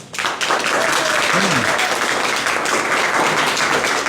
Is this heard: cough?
no